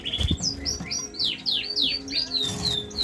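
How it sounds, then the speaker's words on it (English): A male siskin, a cage bird in breeding condition, sings a quick run of bright twittering chirps and rising-falling whistled notes, loud and close, with faint room noise underneath. "Siskin cock."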